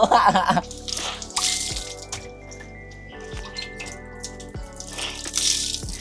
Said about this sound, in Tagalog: Tinanggal ko na muna yung tubig dito sa may trunk